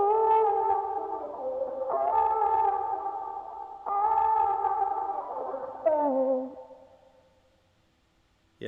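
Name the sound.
'far away' plugin effect applied to music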